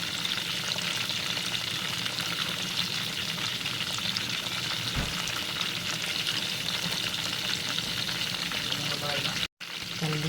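Chicken deep-frying in a pot gives a loud, steady, dense crackling sizzle from start to finish, broken by a short dropout near the end.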